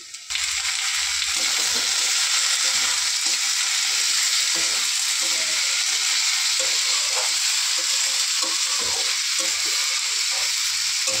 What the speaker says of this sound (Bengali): আলুটাকে দিয়ে কিছুক্ষণ ভেজে নিয়ে